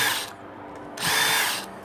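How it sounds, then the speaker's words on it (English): A power drill with a 4 mm bit bores a hole during a boat rudder conversion, two loud bursts of whining motor noise with a short pause between them. "Then I'm going to a 4 mil drill for the back hole."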